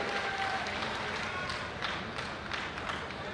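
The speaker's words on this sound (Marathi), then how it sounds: "आपण सर्वांनी एकदा पत्रकारांसाठी जोरदार टाळ्या वाजवल्या पाहिजेत" Audience applause for journalists at a prize-distribution ceremony during a university youth festival, a dense, steady wash of many hands clapping throughout at moderate distance.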